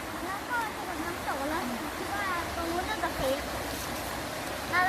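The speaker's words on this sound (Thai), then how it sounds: "ถึงแล้ว น้ำตก" A waterfall at Wang Ta Krai in Thailand gives a steady, broad rushing roar that fills the scene. Birds chirp over it, and faint voices are heard nearby.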